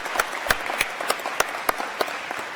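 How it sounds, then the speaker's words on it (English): Applause from a crowd at a university convocation, scattered sharp claps over a steady patter, fairly close and lively. "Give yourselves a round of applause for being here."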